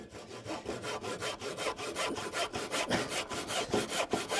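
Hand saw cutting through wood on a garden room base build, with steady back-and-forth strokes in an even rhythm, close and moderately loud, no voices.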